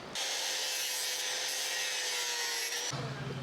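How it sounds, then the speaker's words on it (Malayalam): Wooden ceiling trim for a VOX ceiling is sawn at an angle, a loud, continuous, close cutting whine lasting about three seconds before it stops abruptly, leaving a low hum. "ഇതിൻ്റെ ഈ ഒരു ആംഗിളും കട്ട് ചെയ്ത് കൊടുക്കണം"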